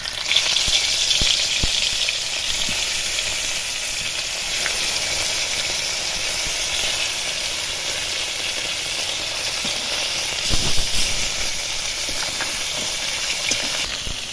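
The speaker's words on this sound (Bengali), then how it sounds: "বাকি যে মাছগুলো ছিল সেগুলো ভেজে নেব" Leftover pond fish frying in oil in a pan, a steady, dense sizzle and hiss that carries on without a break, with a few faint stirring clicks and a slightly louder burst near the end.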